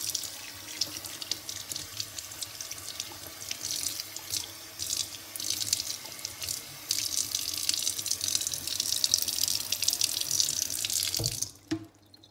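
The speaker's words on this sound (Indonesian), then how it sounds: "Cuci bersih, setelah dipotong cuci bersih." A kitchen tap runs steadily into a sink while freshly cut pieces of a large fish are rinsed, the water splashing and hissing close by for about eleven seconds before shutting off.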